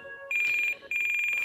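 Alarm tone from an NX8 radio-control transmitter: a steady high electronic beeping that pulses rapidly, breaks off briefly, then resumes, loud and close, with a faint voice underneath.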